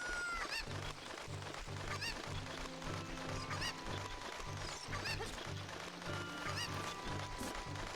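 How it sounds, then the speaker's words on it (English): Cuckoo chickens clucking and squawking in Zelda: Ocarina of Time, several sharp repeated calls over steady game background music, with no talking. "grab this little cuckoo that is conveniently around this circle"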